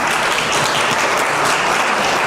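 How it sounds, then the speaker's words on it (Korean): A crowd at a high school admissions information session claps steadily and loudly throughout, a dense wash of applause with no talking. "큰 박수 부탁드립니다."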